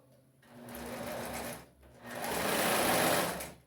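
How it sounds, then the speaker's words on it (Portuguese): A sewing machine runs a very narrow seam on a skirt in two close, steady bursts of whirring stitching with a short pause between them. "Eu tô costurando aqui meio milímetro, mais ou menos."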